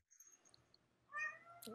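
A cat meows faintly in the background, a couple of quiet cries followed by one clearer, louder meow near the end, with no talking.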